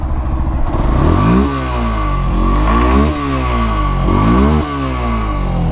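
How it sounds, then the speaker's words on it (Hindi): A Yamaha FZ S motorcycle's exhaust revs loudly up close while in neutral, rising and falling in several repeated throttle blips with a rough, throaty drone between them. "एक बार आप लोग के एग्जॉस्ट का जो साउंड है वो एक बार सुना देता हूँ"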